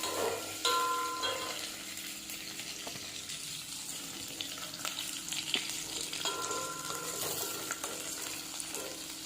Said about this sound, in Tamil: ஸோ சின்ன வெங்காயம், பூண்டு முதல்ல போட்டு இது வந்து நல்லா ப்ரௌனாக வதக்கிக்கலாம்.